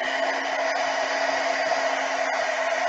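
A heat tool or hair dryer drying craft ink, giving a steady, loud whirring blow that runs unbroken and close, with no talk.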